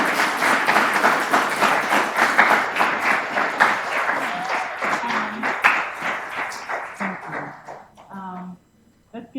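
An audience at an astronomy lecture on stars gives sustained applause, a dense wash of many hands clapping that tapers off near the end, while a voice speaks briefly over the last claps.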